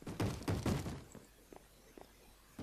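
Minecraft zombies bang on a door in the video game, a burst of three heavy thuds in quick succession followed by a few softer, scattered knocks.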